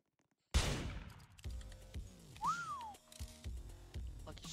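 A loud close gunshot cracks out in a video game, followed by several more shots and booming impacts spaced over a few seconds, with a brief whistling tone in between.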